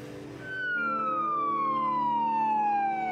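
An ambulance siren sounds on a city street in Vancouver, a loud, close, continuous wail whose tone slides steadily downward.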